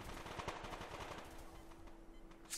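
A bot armed with a pistol fires in the online shooter Survarium: a quick run of faint, rapid shots early on, then the firing thins out and trails off.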